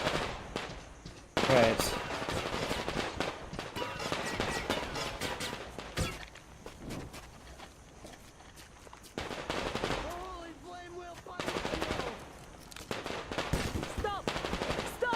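Bursts of automatic machine gun fire in the Metro Exodus video game, rattling in repeated volleys over about fifteen seconds, with brief pauses, game voices and a player's spoken word mixed in.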